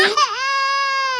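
An infant wails in one long, loud, sustained cry with a rising start, close to the microphone and heard alone without talk.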